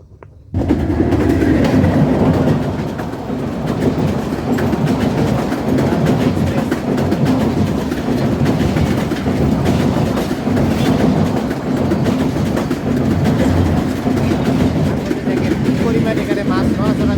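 A train rolls past on nearby rails at a village fishing spot, a loud steady rumble with rhythmic clickety-clack of the wagons throughout, some birds faintly audible.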